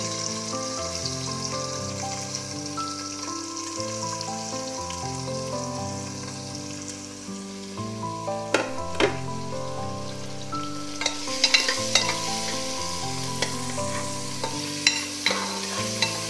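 Chopped onion, green chili and curry leaves fry in coconut oil in a pan while being stirred, with a steady close sizzle and louder scraping strokes of the spoon toward the end.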